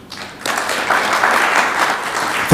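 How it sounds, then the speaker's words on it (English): Audience applause at an agricultural coffee summit in Africa: a sustained, dense round of clapping from a seated crowd that swells after a quiet start and holds steady for a couple of seconds. "Another round of applause, please."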